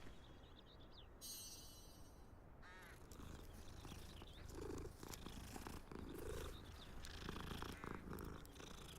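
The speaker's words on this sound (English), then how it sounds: "That cat noise" A cat in the Hogwarts Legacy game purrs softly and continuously at low level, with a short burst of tonal game sound and a crow-like caw near the start.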